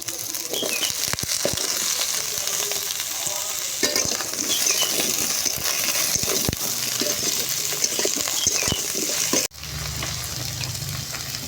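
Chopped onion and vegetables sizzle steadily in a hot pan, a loud continuous frying hiss with stirring scrapes throughout, then a sudden drop to a quieter, lower sizzle near the end.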